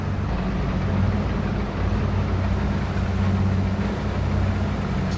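A farm vehicle in Landwirtschafts-Simulator 22 rolls steadily along, a constant low engine drone with a broad rushing noise over it, unchanging and close throughout.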